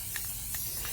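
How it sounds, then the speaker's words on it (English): Rust-Oleum 2x Ultra Cover spray paint hisses onto a vase in a few short, close bursts over a steady background hiss. "I'm just going to do a quick spray."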